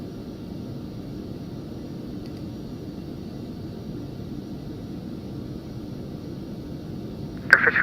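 Phenom 300 business jet taxiing in X-Plane 11, a low steady engine drone with a faint whine, even and unbroken, ending in a short sharp burst of noise.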